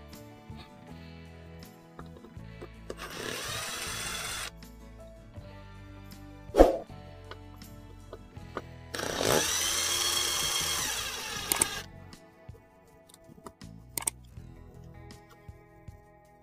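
Screws are backed out of the main board of a 24-inch TCL LED TV, model LED24B2500, using a power driver. Two bursts of whirring separated by a pause come with scattered small clicks and knocks of handling at close range.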